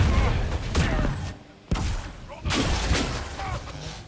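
A barrage of crackling, shattering energy bursts from a spell in Dragon Age Inquisition, loud and close, arriving in three surging waves with brief gaps between them.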